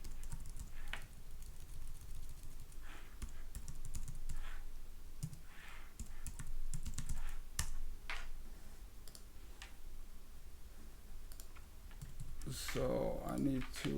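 Fingers typing a password on a computer keyboard in a quiet room, light irregular key taps in short bursts over a low background hum, with a louder rustle or click near the end.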